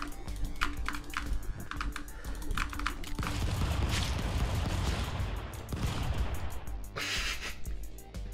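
Rapid gunfire from a low-recoil, high fire rate gun in the Stick Fight video game, dense continuous bursts with clicky game effects, loud and busy throughout.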